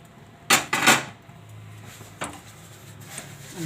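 Sesame chikki mixture is stirred in a metal pan with a utensil, giving a few sharp clanks and scrapes against the pan followed by quieter intermittent scraping.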